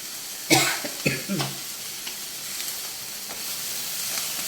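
Garlic and salt frying in a pan give a soft, continuous sizzle, while a voice and a brief cough-like sound break in near the start.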